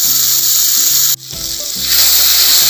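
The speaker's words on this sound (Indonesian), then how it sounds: "nih mama mau kita tumis dulu ya" Teriyaki spices sizzle loudly as they are stir-fried in about three tablespoons of hot oil in a pan, a steady frying hiss with soft stirring scrapes, a brief pause, then a louder burst of sizzling.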